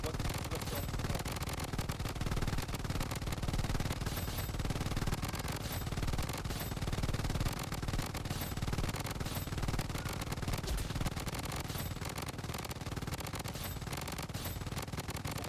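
Sustained automatic gunfire from shooting at training bots in the Blood Strike mobile/PC shooter game, loud dense bursts running continuously throughout with game effects layered underneath.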